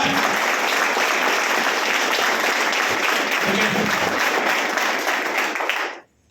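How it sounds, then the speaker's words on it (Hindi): Loud, sustained applause from a large crowd, steady and dense for about six seconds before cutting off abruptly. "जोरदार तालियां"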